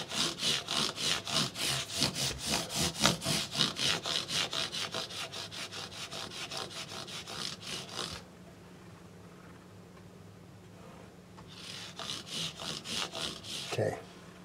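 StewMac polishing pads rub back and forth across the frets of a Fender Jaguar, a rapid rhythmic scrubbing for about eight seconds. A pause follows, then a shorter burst of the same rubbing.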